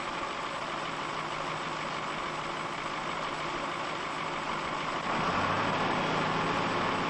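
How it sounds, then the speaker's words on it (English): A truck engine idles as it warms up, a steady, continuous low rumble that deepens and grows slightly louder near the end, with no voices. "While he waits for the engine to warm"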